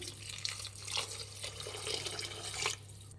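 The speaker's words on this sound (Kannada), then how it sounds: "1 ಗ್ಲಾಸಷ್ಟು ನೀರು ಹಾಕ್ಕೊತಾ ಇದ್ದೀನಿ" A glass of water is poured into a pan of rice and lima beans for avarekalu rice bath, making a soft, continuous splashing and trickling for about three seconds. It is fairly quiet and close, with no voices.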